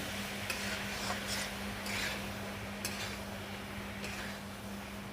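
A brinjal curry with two spoons of yogurt is stirred in a pot: soft, repeated scraping strokes at an easy rhythm, quiet and close, over a faint low hum.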